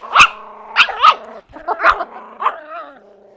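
Two dogs bark and yip in short, loud bursts during rough play, with a few whimpering notes between the barks, close by and with no talk over them.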